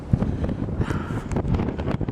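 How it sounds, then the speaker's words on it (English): Strong wind buffets the microphone outdoors on a countryside walk at Jenkin's Beck in atrocious weather, a steady low roar with gusty surges throughout. "the wind is blowing today"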